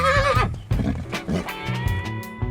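A stallion in a breeding shed gives a loud, high whinny at the start, followed by snorts, hoof thuds and shuffling movement close by.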